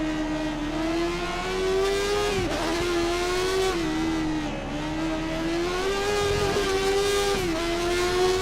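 A Formula 1 car engine from the F1 2013 video game, driven on the Spa circuit, drones loudly and continuously, its pitch rising and dipping through gear changes and corners, with no voices over it.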